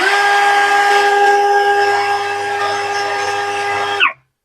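A Nagawa NCB22K cordless drill with a rewound brushless motor, run at speed 1, whines steadily with a strong high-pitched tonal hum and harmonics for about four seconds, then abruptly spins down and stops.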